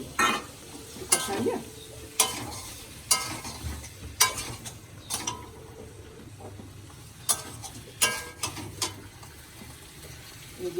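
Curry vegetables, tomato and water going into a hot pan, with repeated sharp clatters of stirring and scraping over a low background hiss, irregular knocks every second or so.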